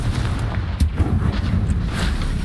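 An explosive spell goes off in a video game, heavy booming blasts and low rumbling detonations repeating close and loud over a couple of seconds, with no voices.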